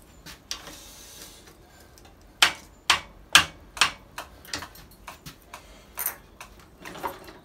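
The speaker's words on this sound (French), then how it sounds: "si on clique, on devrait avoir une étincelle" Ignition contacts on a Dax ST 70 moped being clicked to fire a spark across the plug, giving a string of sharp dry ticks and snaps, several louder ones in the middle, close and quiet with no talk.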